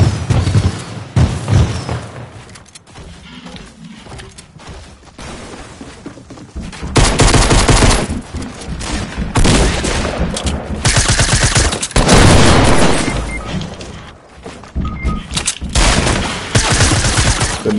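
Sustained video game gunfire: dense bursts of rapid automatic shots and heavy booms, loud and continuous throughout with only brief lulls.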